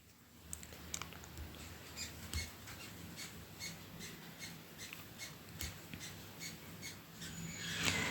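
Small flock of jumbo finches, a batch of seven birds in a cage at a pet sale, chirping in quick, repeated high squeaks and tweets at moderate distance over steady background hum.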